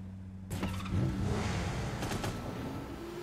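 A car engine starts up and runs steadily in the online shooter game Cyber Hunter, a loud sustained rumble with a brief mechanical whir at the start, with no one talking.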